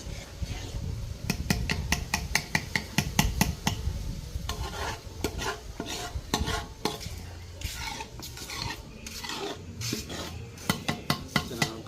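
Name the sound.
stirring Jaffna-style thothal sweet in a pot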